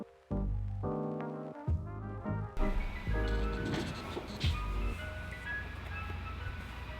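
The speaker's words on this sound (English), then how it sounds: "An ice cream truck outside in winter." An ice cream truck parked outside in winter plays its tinkling jingle melody, loud and continuous, with the rumble of the vehicle running beneath it.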